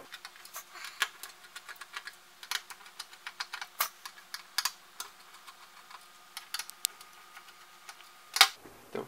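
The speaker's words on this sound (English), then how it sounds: "So now I'm going to go ahead and take these screws out. They're very tiny little cross point screws." Tiny cross-point screws being taken out of a 50-inch LG LED TV, heard as a quiet run of small, dry ticks and clicks from the screwdriver and screws, irregular throughout, with one louder clack near the end.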